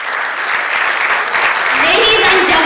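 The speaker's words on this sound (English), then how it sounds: "let us give them a big round of applause" Audience applause at the Glocal Teen Hero 2017 event, steady loud clapping from a crowd that swells and holds, with a voice speaking over it near the end.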